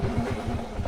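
A Kawasaki KLX dirt bike engine runs with a steady, throaty mid-pitched drone for under a second, close by.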